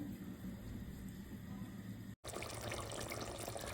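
Water drains from partly cooked rice for mutton biryani in a steady, rushing pour, cut by a brief break, then continuing as a denser splashing flow.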